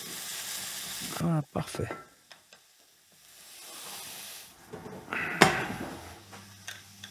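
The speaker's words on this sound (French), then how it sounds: "Je vais rajouter ensuite mes lardons quand mes oignons seront bien tombés. Voilà, je vais bien mélanger." Bacon lardons and softened onions sizzle and hiss in a frying pan, with scraping stirs and clinks of the utensil in bursts and a quiet gap between them. A voice speaks briefly.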